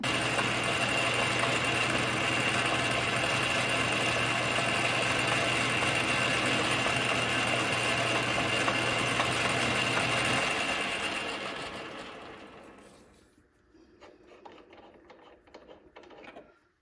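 A drilling machine runs with a steady loud whirring hum for about ten seconds while drilling a hinge part, then winds down, leaving faint clicks and handling noises.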